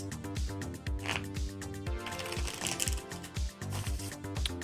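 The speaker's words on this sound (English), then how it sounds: "So I'm going to shuffle a few more times" Repeated riffle shuffles of a tarot card deck, rapid flapping bursts with short pauses between them, close and fairly loud, no talking.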